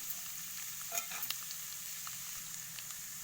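Urad dal and chana dal stirred through a cumin-and-mustard-seed tempering in hot oil, a soft steady sizzle with scattered light scraping clicks near the pan, no voices.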